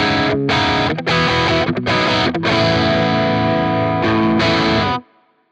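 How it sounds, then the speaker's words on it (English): Crunchy, mildly overdriven electric guitar playing chords and riffs for about five seconds, loud and close, then cutting off abruptly. "Next, we've got our crunch sound on scene B."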